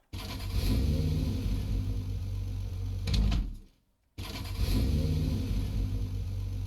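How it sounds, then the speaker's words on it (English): A Fennec Z-RF car engine in a video game hums steadily and rises in a brief rev, cuts out to near silence, then resumes its idle drone. "Let's see if there's any special engine sounds."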